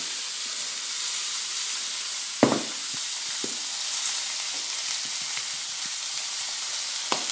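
Steak sizzling in a hot frying pan, producing a continuous close hiss and crackle with a few sharper pops and a brief clatter of the pan, no one speaking.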